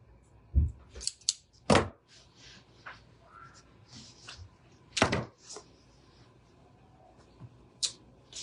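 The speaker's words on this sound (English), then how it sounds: "I'm cutting this right on the outside of the stitch line." Scissors snip through fabric in a handful of separate crisp cuts spread irregularly across the moment, close and distinct against quiet rustling.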